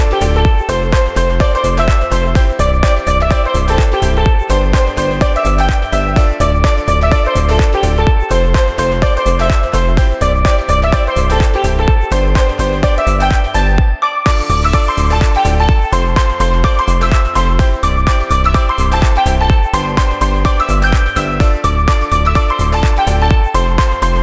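Dance music drop built in GarageBand, a steady four-on-the-floor kick under bright repeating synth chords and melody, loud and continuous with one brief dropout midway.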